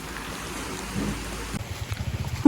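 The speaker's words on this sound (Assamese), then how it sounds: "বৰষুণ দি আছে, অৱস্থা বেয়া।" Rain falling outdoors in steady, moderate patter, with heavier drops drumming on a surface in the latter half.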